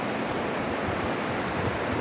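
A mountain river rushes near the waterfalls at Rosa Khutor, Krasnaya Polyana, a steady broadband roar of moving water that stays even and unbroken throughout.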